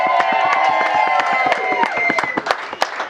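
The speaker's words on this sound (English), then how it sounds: "raise your glass, clap your hands, and give a big cheer to your new bride" Wedding guests at a reception burst into loud cheering and rapid clapping for the bride, with whoops and shouts rising over a dense, sustained round of applause.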